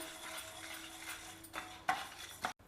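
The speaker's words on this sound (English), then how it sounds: "I am adding about 5 dry red chillies. We will roast them also." Dals and dry red chillies are dry-roasted in a pan, making soft scraping and stirring noises with a few sharper clinks of a utensil against the pan and a steady low hum under them.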